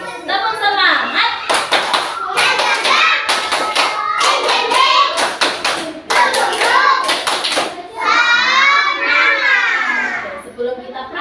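Children at school perform a rhythmic group clapping chant, tepuk semangat, with bursts of sharp clap patterns alternating with the children's chanting voices, loud and close.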